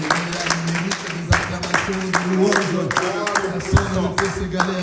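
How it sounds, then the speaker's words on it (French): A church congregation applauding, with loud, close clapping in an uneven rhythm that keeps going throughout while voices call out and talk over it. "Acclamons pour la gloire du Seigneur"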